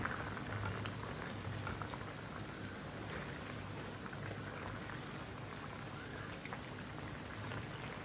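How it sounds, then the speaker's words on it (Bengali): A bottle gourd and shol fish curry boiling in a pot, a continuous dense bubbling and gentle hiss at an even level throughout, with no voices. "আমার তরকারিটা ফুটেও গিয়েছে, সেদ্ধ হয়ে গেছে।"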